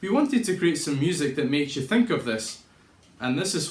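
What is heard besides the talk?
None of the usual background noises is heard.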